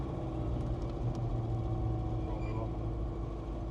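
A dyno-tuned Land Rover 300 Tdi diesel engine drones steadily with a low, constant rumble, heard from inside the vehicle while it drives, with faint talk over it.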